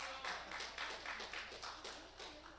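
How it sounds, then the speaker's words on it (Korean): A church congregation claps at a Saturday gathering: steady rhythmic hand claps in rows of beats, moderately distant and fairly soft, carried by a roomy hall sound. "그럼 박수 쳐야죠."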